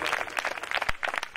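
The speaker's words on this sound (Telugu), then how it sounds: "కొట్టండి చప్పట్లు గట్టిగా." A church congregation breaking into loud, dense clapping, with rapid overlapping claps filling the moment at close range.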